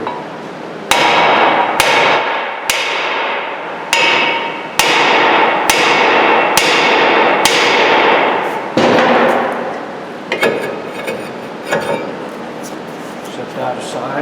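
Heavy hammer blows strike a stuck brake rotor on a Ford Expedition, about seven sharp metallic bangs at roughly one-second intervals, ringing briefly after each hit, followed by lighter clinks and rattles.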